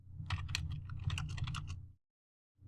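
Computer keyboard in a Kali Linux terminal session, rapid close keystrokes in a dense burst for about two seconds, then a brief silence before one more key press.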